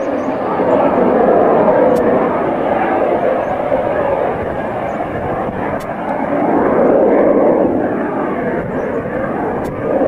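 A drone aircraft flying near Llanbedr in Wales gives a steady, loud engine drone that swells and fades slightly across the stretch.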